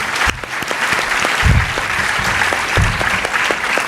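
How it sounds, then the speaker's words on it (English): Conference audience at an actuarial summit applauding after a panel session, a steady sustained clapping from a large crowd that carries on through the whole stretch with no speech over it. "please give them another big round of applause"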